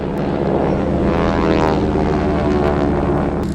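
Geico Sky Typers propeller airplanes roar overhead at the Kansas City Air Show, a loud sustained drone that swells as the planes pass.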